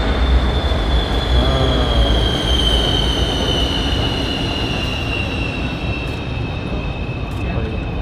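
A train rolls past in Kuala Lumpur with a steady, loud rumble of wheels on rails and a thin high squeal running throughout, close by and continuous.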